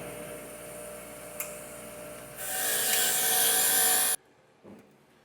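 A wire wheel cleans brake hardware from a 1990 Toyota 4Runner during a front brake and wheel bearing job, giving a steady abrasive whir that grows louder midway and then stops abruptly, followed by a faint clunk.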